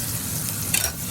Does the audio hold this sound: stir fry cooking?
yes